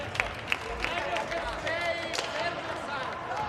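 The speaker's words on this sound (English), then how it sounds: "And they're standing and clapping" Crowd standing and clapping after a roller hockey Masters World Championship bronze medal game between Switzerland and Italy in Italy, scattered claps and crowd murmur under a commentator's voice.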